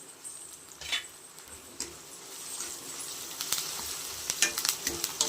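Onions sizzling in a pan for a Rayalaseema country chicken curry, with curry leaves going in: a steady low fry punctuated by sharp crackles, spoon scrapes and bursts of spattering that grow busier toward the end.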